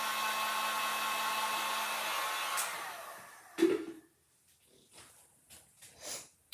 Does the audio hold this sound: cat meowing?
no